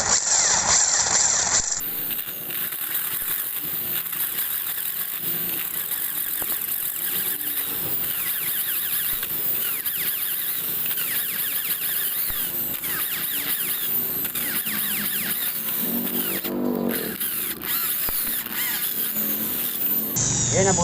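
A power drill bores a 7mm hole into a seized exhaust stud bolt on a Raider 150 motorcycle, a steady high-pitched grinding squeal running close and loud for about twenty seconds with brief dips in pitch.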